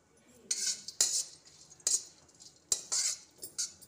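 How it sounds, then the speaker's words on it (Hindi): Dry coconut roasting in desi ghee in a kadhai while being stirred with a metal spoon: several sharp scraping and clinking strokes against the pan, with only a faint sizzle underneath. "सबसे पहले ये नारियल, सूखा नारियल मैं भूनती हूँ।"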